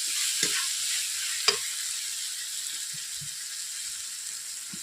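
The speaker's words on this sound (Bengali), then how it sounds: "আমি এভাবে জল দেওয়ার পর 5 মিনিট নেড়ে নিচ্ছি।" Spice paste sizzles and fries in a pan with water added, a steady soft crackle with occasional scraping stirs of a spoon; close and fairly quiet, no talk.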